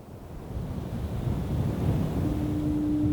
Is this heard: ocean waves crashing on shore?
yes